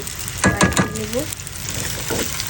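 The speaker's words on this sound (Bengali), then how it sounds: "তেলের মধ্যে আলুগুলো একটু ফ্রাই করে নিচ্ছি" Small potatoes frying in hot oil give a soft, steady sizzle, with a voice speaking briefly over it near the start.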